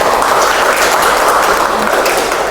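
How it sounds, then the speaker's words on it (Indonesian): Clapping from a group of teachers in a training session, loud and dense for a few seconds, steady throughout without talk. "tepuk tangan untuk Mbak Messi ya."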